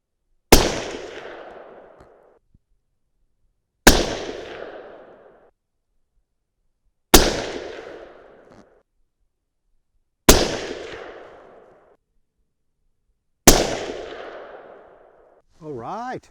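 Five sharp, loud .300 Win Mag rifle shots, loaded with Reloader 23 powder and 240 grain Match King bullets, crack out at regular intervals of about three seconds, each followed by a decaying outdoor echo. A brief voice follows the final shot.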